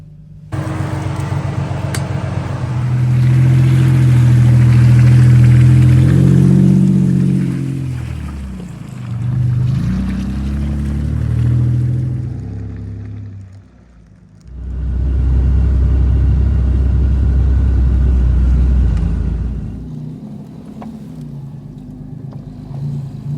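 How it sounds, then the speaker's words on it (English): Vehicle in four-wheel drive low grinding slowly over a rough forest trail while towing a small cargo trailer, with a loud, close engine rumble that swells, dips and rises again. "I'm just going to put in four-wheel drive low. I can see some rough patches coming up, and it'll just make it easier towing the trailer nice and slow over top of that."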